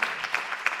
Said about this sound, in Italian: Ma sì, un applauso ci vuole.